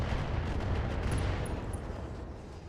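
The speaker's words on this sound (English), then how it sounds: "Firing on target." Indirect weapon fire from the mech combat game Roguetech, heard as a dense rumbling barrage of booms and crackling blasts that stays loud and steady throughout, with no talking over it.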